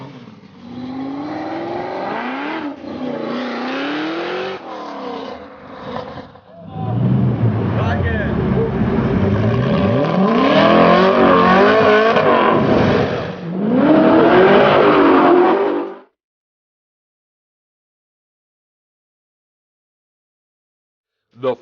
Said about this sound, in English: Jetzt gibt er Gas,